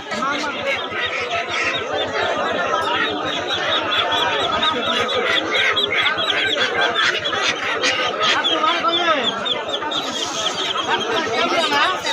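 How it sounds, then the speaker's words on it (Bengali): Chickens, ducks and other poultry at a busy rural weekly market, a steady dense clucking and chattering of many birds throughout, with crowd voices mixed in. "এখানে অনেক প্রকারের মুরগি আছে, হাঁস আছে"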